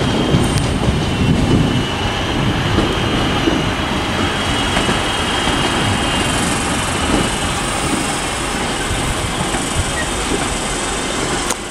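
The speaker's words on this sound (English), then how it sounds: "here comes the 323 in the orange as well. This is coming from Walsall." A Class 323 electric multiple unit in orange livery, running in from Walsall, pulls into Wolverhampton station on the West Coast Main Line. Its steady rumble and faint rail clatter stay close and continuous throughout, with no talk.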